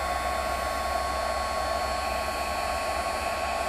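A handheld heat embossing tool blows hot air to melt embossing powder on stamped snowflakes, giving a steady, loud, even whir that runs unbroken throughout.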